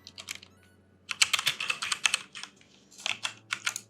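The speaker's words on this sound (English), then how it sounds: "Scale it up, and now we will type" Fast, close computer keyboard typing in irregular bursts of crisp keystrokes with short pauses between runs. No one speaks.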